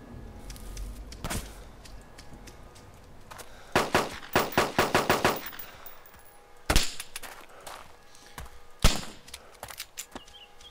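Gunfire in the survival video game DayZ: a few isolated shots, then a rapid burst of about eight cracks, followed by more single shots spaced seconds apart, sharp and fairly close.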